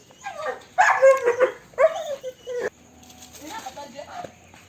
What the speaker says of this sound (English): Here is the massive dog that helps him to guard his farm.